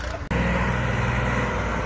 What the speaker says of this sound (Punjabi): ਲਓ ਜੀ 260 ਟਰੈਕਟਰ ਹੈ